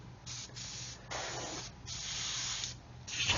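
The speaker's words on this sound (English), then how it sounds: "I'm always spraying this way because I'm keeping the paint away from the bottom." Short bursts of hissing spray paint from a can or airbrush coating a Revell 1/144 Apollo Saturn V model, three or four close spurts separated by brief pauses.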